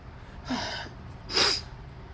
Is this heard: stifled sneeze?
yes